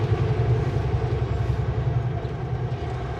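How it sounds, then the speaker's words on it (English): A car drives over CPKC railroad tracks, giving a steady loud rumble of tires and road noise with a rattling thump from the rails, and no voices. "Going over the CP train tracks."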